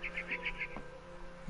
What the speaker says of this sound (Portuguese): Chirping outside my window.